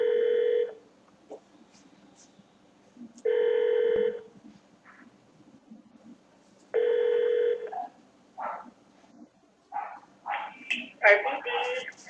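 Tones on an automated telephone line at a police desk: three long sustained beeps separated by gaps, then a quick irregular run of shorter dialing tones, clear and moderately faint.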